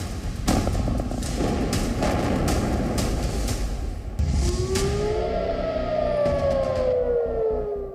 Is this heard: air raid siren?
yes